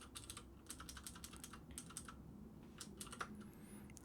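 Keys clatter on a computer keyboard in irregular quick bursts while code is being written, soft and nearby over low room noise, with no voices.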